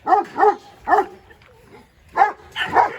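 Kangal dogs bark close by in a loud run of deep barks, a few in quick succession, then a pause, then more barks at the end.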